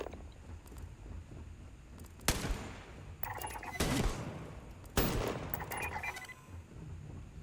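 Gunfire from the Starfield video game: three sharp bursts of shots, loud and close, separated by quieter stretches of low background ambience.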